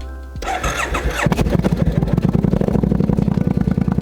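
A carbureted motorcycle cranks with a brief starter whir, then fires up close and loud into a fast, rhythmic, choppy idle that holds steady, running with the choke on.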